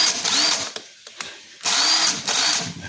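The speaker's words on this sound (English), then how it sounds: "I switched to rigid, and this thing needs motor brushes. You could hear this thing." A worn Ridgid impact driver whose motor needs new brushes runs in two close, loud bursts, whining and rattling roughly, with a short pause and a couple of clicks between them.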